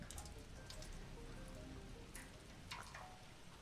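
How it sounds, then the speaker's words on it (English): Rain falling on pipes in the video game Loftia, a soft, steady patter with a few brighter drips standing out, quiet and continuous throughout. "the sound of the rain hitting the pipes"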